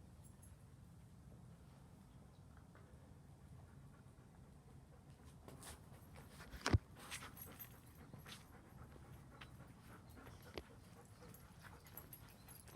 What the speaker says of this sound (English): It's two happy dogs.